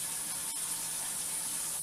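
Tap water runs steadily into a sink while meat is being washed for a family Sunday barbecue, a continuous close, even gush with no voices.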